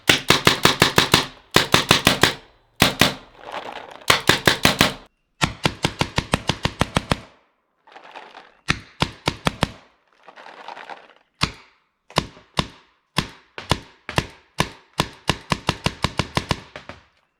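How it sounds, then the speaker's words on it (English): Paintball gun firing in a rapid series of sharp, loud cracks, grouped in quick bursts and single shots with brief pauses, a few weaker pops mixed in from misfires. "That is the paintball gun"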